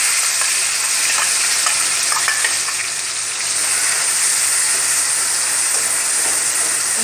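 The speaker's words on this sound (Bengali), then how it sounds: "মরিচটা একটু ভাজা হয়ে আসলে আমি এখানে ব্লেন্ডার করা সেই মশলাগুলো তেলের মধ্যে কষিয়ে নিচ্ছি।" Blended spice paste frying hard in hot oil alongside dried chillies, a loud, steady sizzling hiss with faint stirring scrapes throughout, no voices.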